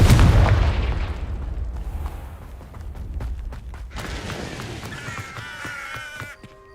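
A Confringo fire spell explodes in Hogwarts Legacy with a deep, loud boom at the start that rumbles and fades, followed by crackling debris and brighter magical shimmering effects.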